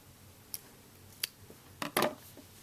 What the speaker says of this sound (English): I'm going to cut this loose end off.